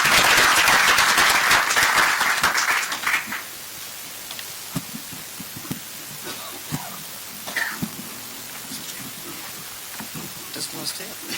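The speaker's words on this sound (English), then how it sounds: "Let's give 103 a big round of applause" Loud applause from an audience at a live-streamed event swells for about three seconds, then falls away to a quiet room with scattered small knocks and faint sounds.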